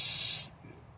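A short, loud, close hiss from a Raid bug spray aerosol can, lasting about half a second before cutting off to quiet background.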